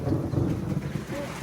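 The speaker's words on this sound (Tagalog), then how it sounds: "Nakakatakot naman yung kulog dito." A low, heavy rumble of thunder during a very heavy rainstorm rolls through the short stretch, deep and sustained, like thunder in the distance, with a faint wash of rain or wind behind it.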